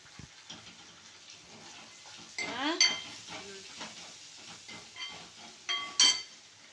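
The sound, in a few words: sautéing and stirring chicken liver gravy in a pan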